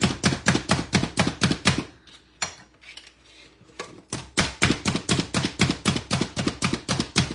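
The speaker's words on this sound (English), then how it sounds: "I'm going to use my food chopper to chop up my carrots, my onions" Rapid, rhythmic chopping of carrots and onions in a food chopper, sharp repeated clacks in two bursts separated by a brief quieter pause, close and clear.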